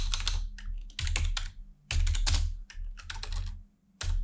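Rapid, close bursts of key clicks from a computer keyboard, typed in uneven clusters with short pauses between runs.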